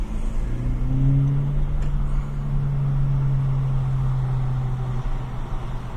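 A car engine hums steadily from inside the cabin while accelerating to pass another car, a low droning tone that rises slightly in pitch, with road noise throughout.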